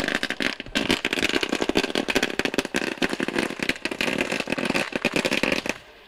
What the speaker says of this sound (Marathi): फटाक्यांच्या आतिषबाजीमध्ये दीपक शेठ खारकर यांचं इथं स्वागत केलं जात आहे.